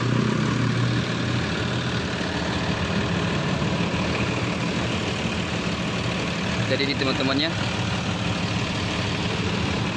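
Mercedes-Benz 1623 front-engine bus with Laksana Discovery SR3 bodywork idling, a steady low diesel rumble running throughout while someone talks close by.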